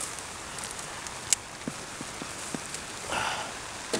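Steady rain patters across a field during a carrot harvest, a constant soft hiss broken by a few close knocks and rustles of handling, with one brief louder burst of spray near the end.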